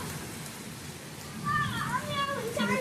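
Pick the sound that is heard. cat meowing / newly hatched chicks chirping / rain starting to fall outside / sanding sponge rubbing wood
rain starting to fall outside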